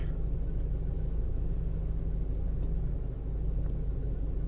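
A 2007 Volkswagen GTI drives along, heard from inside as a steady low engine and road rumble, even and unbroken, with no talk.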